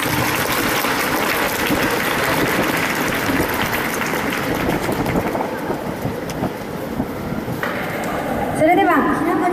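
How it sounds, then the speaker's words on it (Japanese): Audience applause welcoming a special guest, a Monaco-based soprano, at a Japanese event; dense, steady clapping fills the whole stretch with no pause, then fades slightly near the end. "どうぞ皆さん拍手をお迎えください。"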